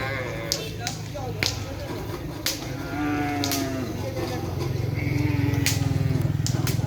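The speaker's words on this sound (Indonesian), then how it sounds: "Ini ada sapi yang mau dilepas." Cattle at a bull race training ground, with sharp cracks and thuds in the first half giving way to a busy, steady rumble of hooves and animal noise, moderately loud and outdoors, with no clear talk.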